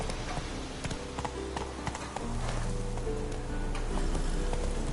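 Roach, a horse in The Witcher 3, galloping with rapid rhythmic hoof clops over a steady rumbling game ambience that grows louder partway through.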